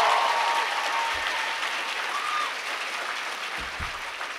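A live audience at RuPaul's DragCon applauds for drag queens, sustained loud clapping from a large crowd that slowly tapers, with a few faint voices underneath.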